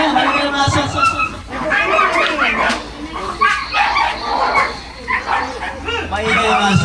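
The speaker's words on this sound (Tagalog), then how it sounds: "Talagang maingay yung aso." A noisy dog yips and barks repeatedly at an outdoor award gathering, its calls mixed in with ongoing chatter and talk.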